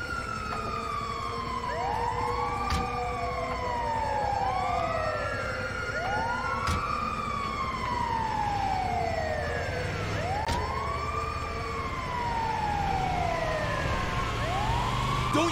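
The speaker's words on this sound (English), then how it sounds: "They gotta think we're a legit ambulance." A wailing ambulance siren in Grand Theft Auto 5 cycles up and down continuously, loud and close, with repeated sweeping tones layered over a steady engine rumble.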